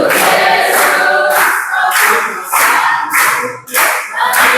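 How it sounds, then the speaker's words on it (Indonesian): Group of people singing together in Indonesian to rhythmic, loud hand clapping in a classroom, the claps landing in a steady beat from start to finish. "sambil tepuk tangan"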